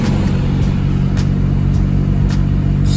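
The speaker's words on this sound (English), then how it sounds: "Let me turn the car on." A 1996 Lexus LS400 V8 runs at a steady, loud idle up close, a continuous low engine hum with faint periodic ticks.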